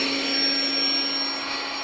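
Built-in electric pump of a SoundAsleep Dream Series luxury air mattress running as it inflates the bed, a steady close whirring hum with a fixed high whine, continuous and unbroken.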